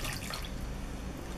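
A cup of water is poured into a pan while making cucumber relish, giving a steady, close splashing pour that fills the whole short moment without a break.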